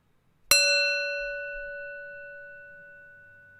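A meditation bell is struck once and rings alone with a clear, pure tone that decays slowly over several seconds in a quiet room.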